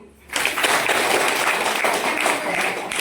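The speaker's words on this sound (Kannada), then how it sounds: "ದಯವಿಟ್ಟು ಚಪ್ಪಾಳೆ ಹೊಡಿಬೇಕು." Sustained applause from an audience at a public World No Tobacco Day event in Channarayapatna, starting abruptly after a brief quiet moment and continuing steadily at full strength throughout.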